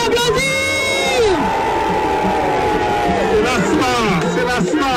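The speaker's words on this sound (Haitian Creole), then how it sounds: "Est-ce qu'on peut l'applaudir?" A crowd cheers, whoops and shouts loudly and continuously, with whistles and excited voices rising and falling throughout.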